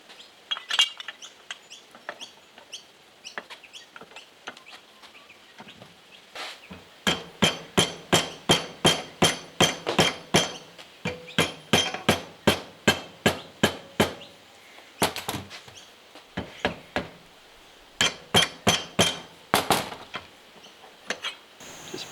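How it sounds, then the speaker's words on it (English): A metal lightbar bracket is bent by hammering, quiet at first, then long runs of sharp ringing metallic blows struck in quick steady rhythm, pausing briefly between bursts. "I'll bend this bracket a little bit, and then I'll get it to work."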